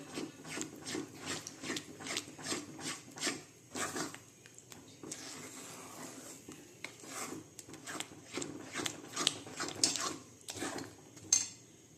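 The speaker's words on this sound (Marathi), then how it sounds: "सारखं हलवत घ्यायचं खाली लागतं ते गोटळ्या होऊन द्यायचे नाही" A spoon scrapes and stirs a thickening flour mixture in a pan, giving rhythmic rasping strokes that come in quick regular bursts, pause, then resume, close and fairly quiet with no talking.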